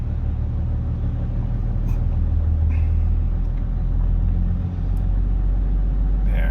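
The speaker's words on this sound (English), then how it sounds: "Let's give it a bit of throttle" A vehicle engine idles as a low, steady rumble and is given a bit of throttle, rising slightly, with faint clicks over the hum and no talking.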